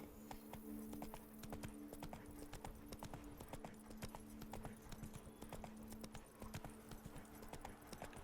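Hooves of Roach, the horse in the Witcher 3 video game, clip-clop in a brisk continuous rhythm, close and prominent over a faint steady game hum.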